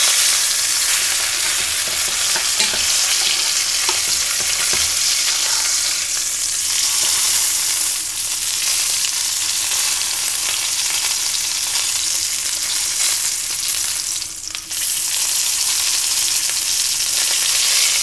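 The fat cap along the edge of a sous vide ribeye steak sears in a hot pan, giving a loud, even sizzle that holds for the whole stretch with faint crackles and brief shifts.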